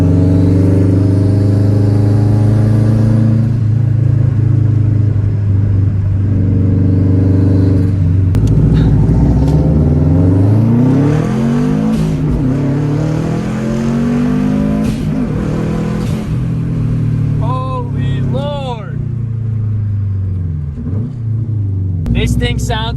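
Subaru WRX fitted with a Tomei exhaust, revving loudly and roaring through repeated throttle blips, close and sustained, with a deep rumble throughout.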